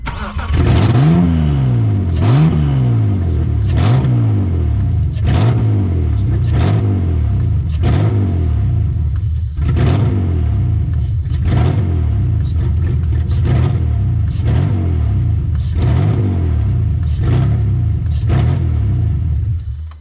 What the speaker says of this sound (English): As you can hear, it's got some upgraded exhaust components.